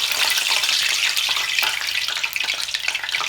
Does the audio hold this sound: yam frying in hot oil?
yes